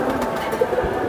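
Giribaz racing pigeons coo softly nearby, giving a brief low throaty murmur over a steady background hum.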